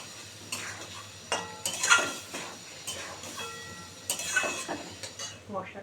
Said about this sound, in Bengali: এবারে মশলাটা আমি খুব সুন্দর করে কষাবো